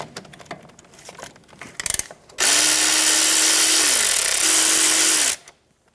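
A power tool with a 12 millimeter socket spins a bolt out of a brake line bracket on a 2005-2010 Toyota Tacoma front suspension, a loud steady whir lasting about three seconds after some quieter clinks and handling noises.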